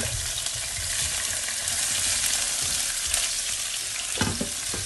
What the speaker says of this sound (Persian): سیب زمینی ها و پیازا اول از همه، بعد رشته را اضافه میکنم. اینا باید تفت بخوره.